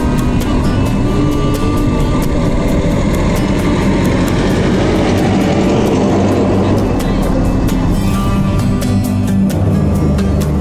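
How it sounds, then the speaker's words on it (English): A 1950s Land Rover engine running on a desert drive outside Dubai, a loud, constant rumbling drone with rattling and vibration from the moving vehicle, heard from inside without a break. "we've taken out a 50s Land Rover"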